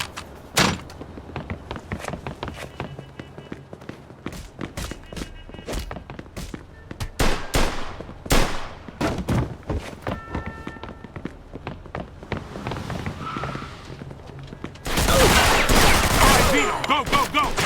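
Gunfire in Mafia 2 Definitive Edition: irregular sharp shots and bursts rattle through a tense scene, ending in a dense, loud sustained barrage.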